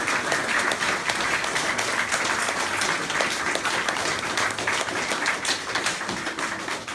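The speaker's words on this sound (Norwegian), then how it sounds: "En applaus for Håkon Gullvåg." An audience at an Oslo Kulturnatt event applauds the artist Håkon Gullvåg with loud, dense, sustained clapping filling the room for several seconds.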